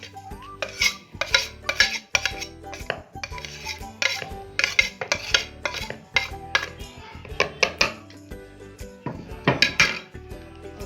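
Metal spoon clinking and scraping against a bowl while mashed lentil and potato kebab mixture with coriander, dried coriander and red and green chillies is stirred, in a rapid irregular rhythm of close, bright clatters throughout.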